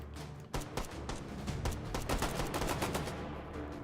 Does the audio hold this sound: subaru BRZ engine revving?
no